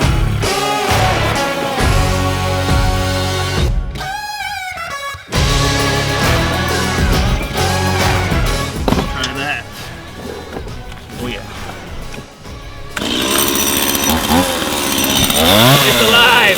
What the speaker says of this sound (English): working on getting the chainsaw running